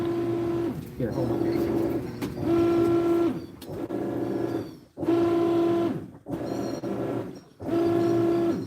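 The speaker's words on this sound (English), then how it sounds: "That sounds like a printer." A printer runs in repeated cycles, each a steady mechanical whirring hum that stops and restarts several times, with a person speaking briefly over it.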